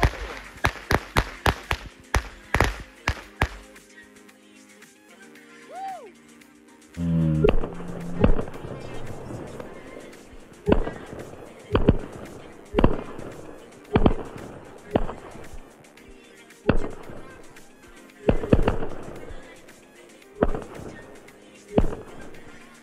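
Fireworks go off on an Ertl Chinese Dragon Discus toy, a fast string of sharp crackling pops followed by a long series of loud, evenly spaced bangs, brief speech at the start.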